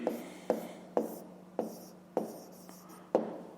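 Pen writing in a notebook during a math exercise, a series of close, evenly spaced taps and short scratching strokes with no talking.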